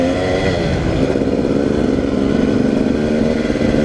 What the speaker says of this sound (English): I'm gonna grab some throttle and go.